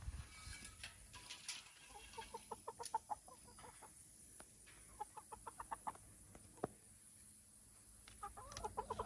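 Chickens cluck in repeated short bursts at close range as okra is tossed to them in a backyard garden, with a steady soft background hum and no talk.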